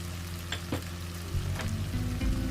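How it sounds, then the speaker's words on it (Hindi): Ground spices frying on low heat in a pan for urad dal, a soft continuous sizzle with a few stirring scrapes, close and fairly quiet, with no talking. "सब मसालों को हल्की आंच पर 1 से 2 मिनट तक भून लेंगे"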